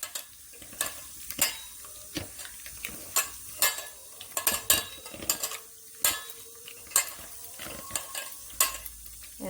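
Boiled potatoes being mixed by hand with salt and turmeric powder in a bowl, soft squelching and clinking taps in uneven bursts, close and quiet, no voices.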